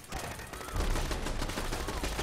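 Gunfire and explosions from automated turrets in the video game Fallout 4, a dense rapid barrage of shots with heavy low booms thickening from about a third of the way in, loud and continuous without a break.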